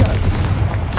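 Confringo blasting spell in the Hogwarts Legacy video game, a heavy, rumbling boom that fills the whole moment at close range, ending with a brief bright crackle.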